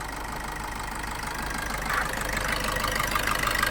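A 2017 Maruti Suzuki Swift VDI diesel engine idles with a steady, close mechanical hum and light clatter, slightly louder toward the end.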